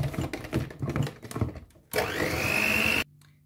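An electric mixer whips cream with powdered sugar in a home kitchen, a steady close whirring hum that starts abruptly after some clattering and handling noises and runs for about a second before cutting off.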